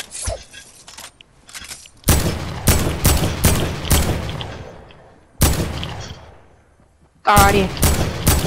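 Heavy AK rifle bursts in a video game, several loud close-range volleys in separate bursts with short pauses between, a brief voice speaking at the start.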